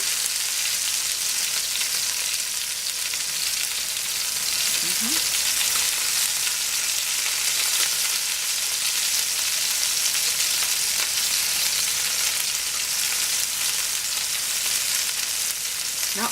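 Potatoes pan frying over high heat give a steady, dense sizzle that holds close and loud throughout, with a couple of faint scrapes partway through.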